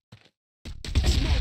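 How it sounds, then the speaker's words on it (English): A flash grenade is thrown in the game CrossFire on the Night Market map: a brief faint clink, a short pause, then a sudden loud burst that rings on with a dense hiss. "Flash grenade!"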